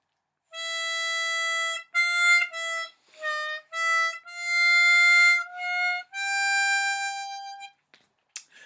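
A C harmonica plays the opening line of a song, starting on a 5 blow, with clear sustained single notes in a slow phrase, breaks between notes, played solo and close.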